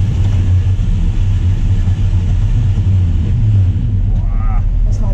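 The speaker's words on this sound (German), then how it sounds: "Die ersten zwei bis drei Gänge hat das Getriebe auch sauber durchgeschaltet, aber dann gab es schreckliche Geräusche" An expedition truck's gearbox in low range, shifting cleanly through the first two or three gears before turning harsh, grinds out a loud, steady low drone that fills the whole stretch, with a faint rising whine creeping in near the end.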